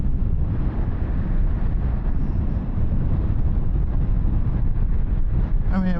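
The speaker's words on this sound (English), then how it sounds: "That wind is crazy." Loud, steady wind roar buffets the microphone while riding a 2024 KTM 1390 Super Duke R EVO motorcycle, a dense low rumble filling nearly all six seconds without a break.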